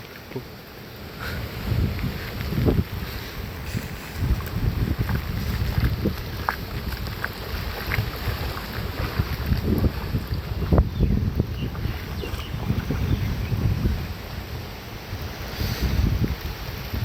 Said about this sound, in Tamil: சரியான காற்று அடிச்சு கொண்டு இருக்கு